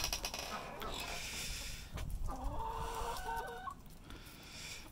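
Chickens cluck at close range on a farm in the morning, with a run of harmonic calls in the middle and a steady bed of outdoor noise throughout.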